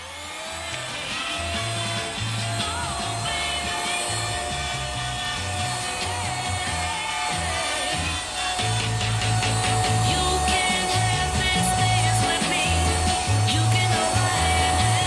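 A household vacuum cleaner runs steadily throughout, a continuous motor whine with a broad, even hiss and no talk over it, a little louder toward the end.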